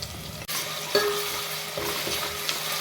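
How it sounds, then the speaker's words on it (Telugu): Onions and ginger garlic paste frying in a pan for fish curry, a steady close sizzle with scraping stirs and light clinks of the utensil against the pan, no talking. "ఉల్లిపాయలు బాగా వేగాక అల్లం వెల్లుల్లి పేస్ట్ వేసుకోవాలి"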